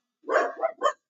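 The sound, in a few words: little dog barking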